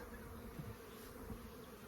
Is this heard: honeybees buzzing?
yes